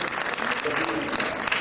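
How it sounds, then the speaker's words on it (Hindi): Audience applause at a mushaira poetry gathering, a thick, continuous spread of clapping from a crowd with some voices mixed in, sounding fairly close and steady. "एक बार और तालियां बजानी चाहिए।"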